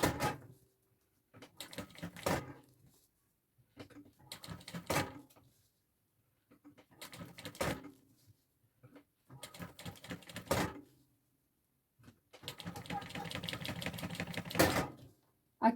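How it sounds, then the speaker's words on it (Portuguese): Sewing machine stitching the narrow side panel of a draped handbag in short, separate bursts, each run of rapid clatter broken by quiet pauses, with a longer steady run near the end. "Aqui eu vou costurar."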